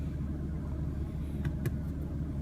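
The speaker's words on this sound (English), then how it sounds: "and here's the engine response." BMW M3 or M4 engine running, a low, steady rumble close by with a faint higher whine, holding an even level with no clear revving.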